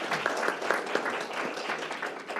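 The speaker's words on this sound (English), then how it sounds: "Let's give a round of applause to Kim and Angie" A room of listeners claps for two panelists after a conversation on digital infrastructure and equitable outcomes, a moderately quiet, fairly steady patter of hands with a few sharper individual claps standing out.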